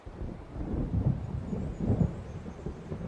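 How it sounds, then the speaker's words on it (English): Rolling thunder from an approaching storm at sea in a video game, a low continuous rumble with two swelling peaks, moderately loud throughout with no talk. "It seems there's a storm coming."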